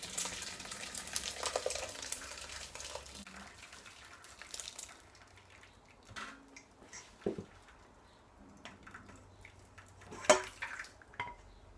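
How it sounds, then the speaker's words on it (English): Minced beef and vegetables in gravy are poured carefully through a sieve in a home kitchen, giving soft wet squishing, dripping and a few faint clinks of metal, quiet and intermittent. "I'm going to very carefully pour this to catch the gravy."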